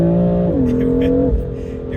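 Engine of a BMW M3 on a stage 1 tune making 490 bhp, revving loud and close with strong harmonic tones that step down in pitch twice as the revs fall, then settle into a lower steady note.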